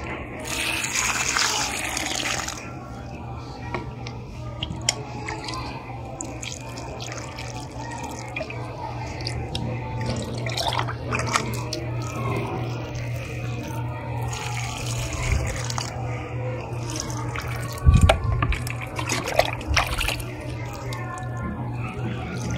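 Water splashing and trickling as rooftop plants are watered, steady flowing and dripping sounds over several seconds with occasional louder splashes and faint background hum.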